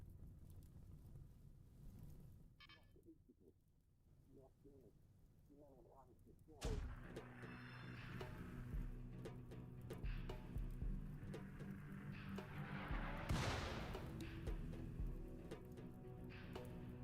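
Gunfire and explosive booms from the colony-sim game RimWorld, starting after a quieter stretch of faint shots, then a dense, loud barrage of overlapping blasts and rumbling impacts continuing to the end.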